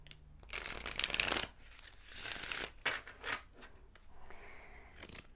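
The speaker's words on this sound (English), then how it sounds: "I'm going to sit with these while I shuffle" Tarot cards shuffled by hand at close range, in several crisp riffling, flapping bursts with short pauses between them; no one speaks.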